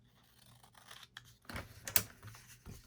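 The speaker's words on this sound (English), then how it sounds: "I'm going to snip it" Scissors snipping paper while making a junk journal card: a few faint, quick cuts close to the microphone in an otherwise quiet room.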